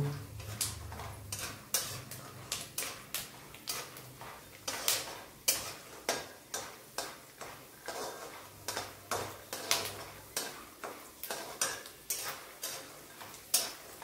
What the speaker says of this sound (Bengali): এবার বাদামটাকে তুলে নেব।